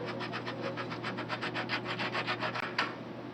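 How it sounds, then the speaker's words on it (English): A bicycle fork bearing cone being unscrewed by hand, a rapid series of rhythmic scraping, rasping strokes of metal threads turning, close and fairly quiet, with no talk. "there's another cone, which you can just loosen off with your hands, no wrench required"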